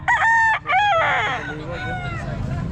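A rooster at the Baliwag pet market crows loudly and close by in a harsh, broken call, followed by softer clucking and market murmur.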